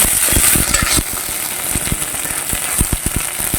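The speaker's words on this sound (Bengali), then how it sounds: "এই দুটো লঙ্কা ফোড়ন দিয়ে দিচ্ছি এই তেজপাতাটা দিয়ে দিচ্ছি এই কালো জিরাটা ফোড়ন দিয়ে দিচ্ছি এই আদাটা ফোড়ন দিয়ে দিচ্ছি" Chillies, bay leaf, black cumin and ginger sizzle loudly in hot oil for a kolmi shak dish, a steady hiss punctuated by repeated sharp knocks of a spoon stirring the pan.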